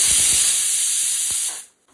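A pressure cooker holding Lucknowi-style mutton trotters lets out a loud, steady steam whistle that hisses on without a break for about a second and a half, then cuts off into near silence.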